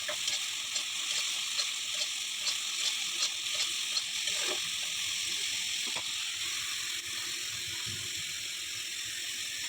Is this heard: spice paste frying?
yes